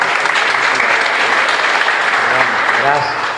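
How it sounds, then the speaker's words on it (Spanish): Loud, dense applause from people gathered at a Mass in the Capilla María Auxiliadora chapel in Ñemby, continuous and close for a few seconds, with a faint voice briefly rising within it near the end. "Muy bien, fuerte aplauso."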